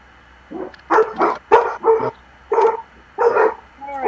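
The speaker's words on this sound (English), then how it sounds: "The dogs are putting their 2 cents in now." Several dogs bark outdoors near a skeletal building frame, a run of about seven loud, separate barks and yips in uneven bursts with short gaps between them.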